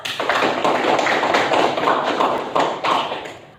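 Applause from a classroom of students, a dense burst of clapping hands that fills a few seconds and tapers off at the end, loud and close with no talking over it.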